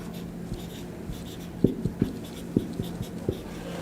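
Marker or chalk writing on a board during a math lesson, heard as a series of short, sharp taps and strokes about a second apart, fairly close, over a low steady hum with no talking.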